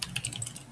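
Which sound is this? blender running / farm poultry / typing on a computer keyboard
typing on a computer keyboard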